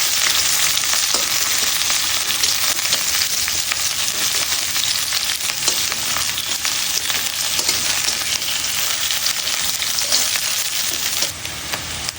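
Onion frying in a pan alongside carrot and beans for homemade chicken chow mein gives a loud, steady, close sizzle that runs unbroken throughout, with no voices.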